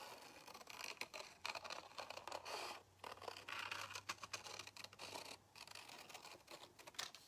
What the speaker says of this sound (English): we'll use the scissors and we're going to go